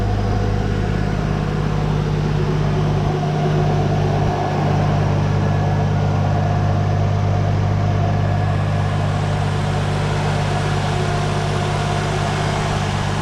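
A Mk3 Toyota Supra engine idles steadily at close range, a constant low hum with a faint whine and no voices.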